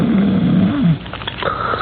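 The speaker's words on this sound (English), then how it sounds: "comes a rhythmic and ear-shattering snore" A loud snore from a big, heavily muscled, early middle-aged man asleep in a bed in a room: a single deep, rough, drawn-out rasp, close and prominent, heard alone.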